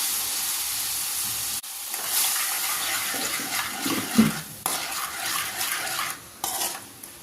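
Vinegar poured into a pan of warm masala for a mango and gooseberry pickle, heard as a soft liquid splash with stirring, clinks of a utensil on the pan, and a steamy hiss; no voices.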